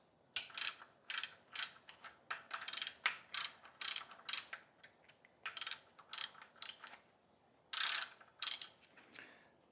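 A ratchet clicks in quick close bursts while cracking loose camshaft bolts on a BMW M54 engine, a steady series of sharp metallic pawl clicks with brief pauses between strokes.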